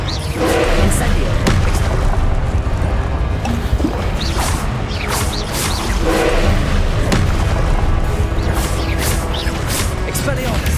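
Fiery Incendio spell blasts from Hogwarts Legacy, a dense run of booming bursts and crackling impacts under a steady loud game mix, with a voice shouting spell names over the combat.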